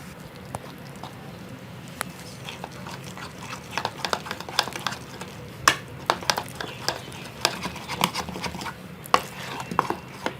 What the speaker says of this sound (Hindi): अब फिर से हम इस बैटर को अच्छी तरह से मिक्स करेंगे